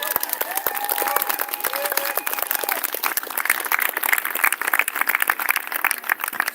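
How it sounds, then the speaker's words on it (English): Crowd at a Saturday protest rally in Canberra applauding a concreter from Wollongong, dense continuous clapping with some cheering and someone talking over the start. "Give this guy the biggest round of applause"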